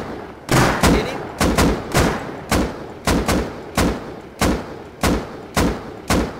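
Gunfire in the video game Rust at a raid on an armored cave base: about a dozen loud, close shots in a steady, evenly spaced rhythm, each with a short booming tail.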